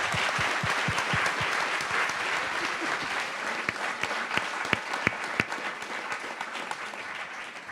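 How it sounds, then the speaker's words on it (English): An audience at a film festival Q&A applauds the filmmakers with sustained, dense clapping that stays loud throughout, then thins into scattered individual claps toward the end. "I'd like to give another round of applause for these filmmakers"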